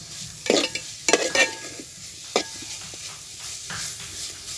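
Green chillies hit a pan of softened onions for a chicken and ash gourd curry, with a soft sizzle broken by a few sharp clinks and scrapes of stirring.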